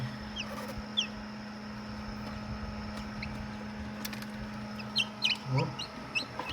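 High chick peeps come repeatedly over a steady incubator hum as chicks hatch, growing busier toward the end, with a brief voice exclaiming once.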